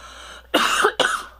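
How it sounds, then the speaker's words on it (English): A person coughs twice in quick succession, close and fairly loud, the second cough shorter than the first. "Man, I got a little bit of a cough."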